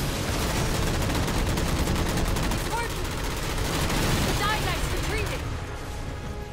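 Halo 4 combat gunfire, rapid sustained bursts of automatic shooting mixed with explosive booms, loud and continuous throughout with the din thinning slightly near the end.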